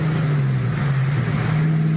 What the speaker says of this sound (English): It sounds like it's got exhaust pods.